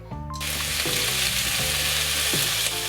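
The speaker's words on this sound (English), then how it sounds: "we're going to sear this beef off, ready for the slow cooker" Beef being seared in a hot pan, about 1.5 kilos browned in batches before going into a slow cooker, gives a loud, steady sizzle that runs the whole time with a few soft clinks of stirring.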